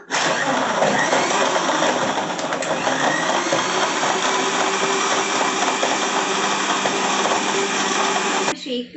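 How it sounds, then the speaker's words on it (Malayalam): A mixer grinder blends a milkshake of milk with cocoa powder and milk powder, a steady loud whirring drone running nearly the whole time before cutting off near the end. "നമുക്ക് മിക്സിയിൽ അടിച്ചെടുക്കാം."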